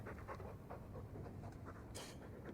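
Dog panting in the video game Dragon Age II, a quick rhythmic series of soft breathy huffs, fairly quiet and steady, with one brighter hiss near the end.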